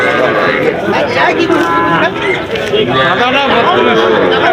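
Cattle and calves at a busy calf market moo loudly and repeatedly, overlapping with constant crowd chatter and nearby voices talking.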